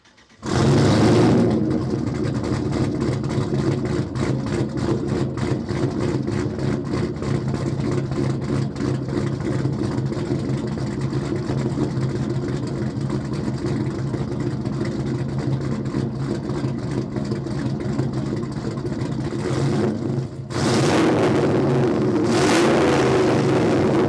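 Straight-piped turbo LS-swapped rear-wheel-drive Pontiac Grand Prix with a 3-inch exhaust and no mufflers roars close and loud in a sustained rev, briefly dipping near the end before surging again.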